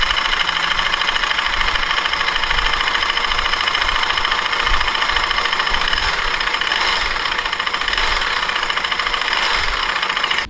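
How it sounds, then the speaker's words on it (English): A Bajaj Dominar 400 motorcycle engine with an internal fault runs with a rapid, regular knocking rattle, loud and close, holding steady for about ten seconds before cutting off. "my dummy engine broke down to a weird sound as you hear now."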